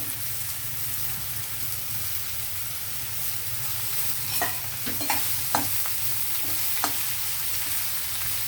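Bottle gourd pieces and onions fry in a pan with a steady, dense sizzle, joined midway by a handful of sharp clicks and scrapes as the pieces drop in and are moved about, close and even.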